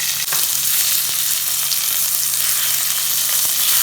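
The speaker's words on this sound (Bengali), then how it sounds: "এখানে 1 মিনিট মতন একটু ভাজা করে নেব এগুলো, লঙ্কার টমেটোটা।" Tomatoes and sliced green chillies fry in a hot pan with a steady, loud, close sizzle that runs without a break, and no voices are heard.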